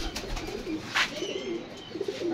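Pigeons kept as a hobby coo softly at close range, a low murmuring warble repeating over the ambient noise, with a brief bright flutter or chirp midway.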